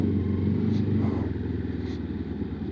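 A brand-new Sinnis Terrain 380 motorcycle ridden at slow speed, its engine giving a steady low rumble with slight wavering, heard close and fairly quiet without talk.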